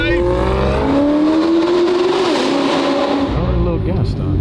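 Lamborghini accelerating on a Florida road drive, engine note climbing steadily under constant road and wind noise for several seconds, with a voice talking over it.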